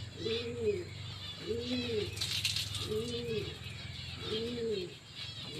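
Domestic pigeons cooing up close in four evenly spaced, throaty coos over a steady low hum, with a brief rustle or flutter in the middle and no voices.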